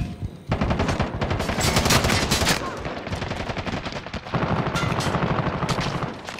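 Rapid bursts of gunfire in an island battle video game, loud and close, with dense overlapping shots running almost continuously and a brief lull midway.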